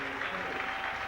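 A stadium crowd at a 1996 Bradford versus St Helens rugby league match applauds steadily, a dense sustained clapping with a commentator's voice over it.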